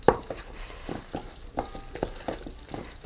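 A spatula stirs a thick kimchi seasoning paste of garlic, ginger and salted shrimp, producing soft wet slaps and scrapes in an uneven rhythm, close and quiet, with no talk.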